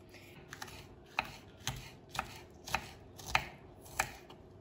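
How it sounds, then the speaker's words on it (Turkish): A knife chops green peppers steadily on a cutting board, about eight crisp strikes at an even pace, close and clear over a low background hum. "Şimdi biberlerimizi doğramaya başlayalım."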